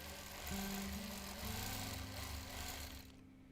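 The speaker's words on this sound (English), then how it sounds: "So I'll just sew a couple straight lines, a couple curves." A sewing machine stitches test lines on a quilt during free-motion quilting, a steady motorized whir that shifts pitch as speed changes, close and fairly faint, ending abruptly.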